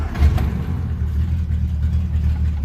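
A 1967 Triumph GT6 engine, already warmed up, fires on the first try and settles into a steady, close-up idle. The low running note holds evenly throughout, with no talk over it.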